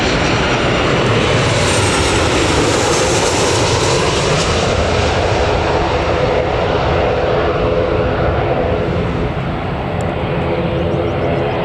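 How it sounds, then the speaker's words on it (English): An airplane comes in to land at Newcastle Airport, its engine roar loud and close throughout, sweeping slightly in pitch as it passes, with no clear talking. "I think there's another aircraft coming in."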